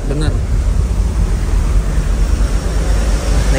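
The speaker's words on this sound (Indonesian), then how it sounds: "ini ombaknya full gede dari semenjak tadi kita lewat Selat Sunda ya" Big waves crossing the Sunda Strait heard from aboard the passenger ship KM Lawit, a loud, constant roaring wash mixed with wind noise, close and unbroken.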